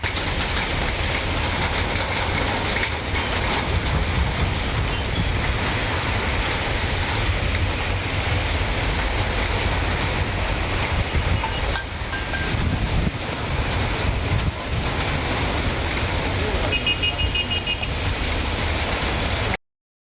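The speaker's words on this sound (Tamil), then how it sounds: "திடீரென சூறை காற்றுடன் கனமழை பெய்தது" Heavy rain lashing down with strong gusting wind in Madurai, a dense, steady roar that stays loud and unbroken from start to finish.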